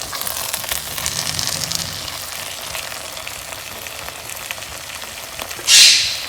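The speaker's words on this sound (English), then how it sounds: "But put it on very low flame and let it simmer, because all the water from the zucchini will come out and it will cook." Zucchini and other vegetables simmer over a very low flame in a pan for Indian spiced ratatouille, a steady gentle hiss and sizzle, then a short louder burst of hissing near the end.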